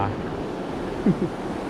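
Strong river current rushing past a bridge makes a steady, broadband wash, close and fairly loud, with a brief voice-like blip partway through.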